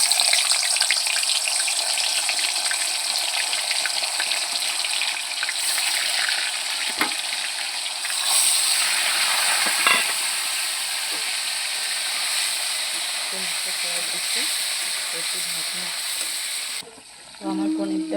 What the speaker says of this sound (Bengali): তো আমার তেল গরম হয়ে গেছে, এখন আমি পনিরটা ভাজবো।